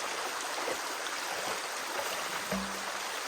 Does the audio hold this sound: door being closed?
no